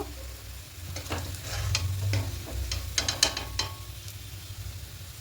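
Fried onions being mixed by hand into chicken for a quick chicken biryani, with steady soft stirring and squelching close by, plus a few brief clicks and a low background hum.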